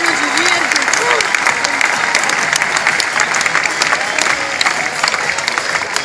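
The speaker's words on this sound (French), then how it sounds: "Allez, on applaudit, allez." Steady, dense applause from a crowd at a recortadores bull show in Beaucaire, with scattered voices and shouts over the clapping throughout.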